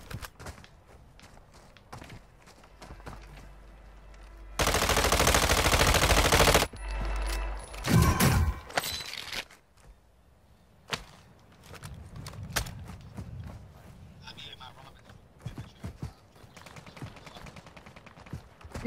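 Gunfire in Call of Duty, scattered sharp shots and a loud sustained automatic burst in the middle, with footsteps and quieter shooting around it and little talk.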